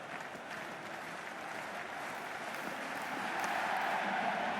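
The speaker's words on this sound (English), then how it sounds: "You can really feel the buzz around the spectator areas." A video game cricket crowd claps and cheers in a steady wash of applause, continuous and slightly swelling toward the end, with no talking.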